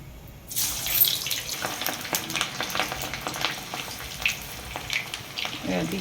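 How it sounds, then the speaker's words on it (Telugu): Chopped potato pieces, about a quarter kilo, deep frying in hot oil, a steady crackling sizzle that starts abruptly and keeps going with small pops and occasional utensil stirs close by. "ఆయిల్లో ఇవి డీప్ ఫ్రై చేసుకోవాలి."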